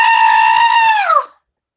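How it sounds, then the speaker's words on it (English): A woman lets out one loud, sustained, high-pitched scream in a live Star Trek Voyager radio-theatre reading, held steady before sliding down and cutting off abruptly into silence. "Constance screams"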